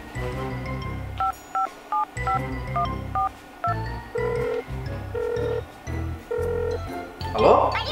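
A telephone keypad sends a quick series of beeping dial tones in short irregular bursts, then several longer evenly spaced tones, all close and clear, followed by a brief rustle at the end.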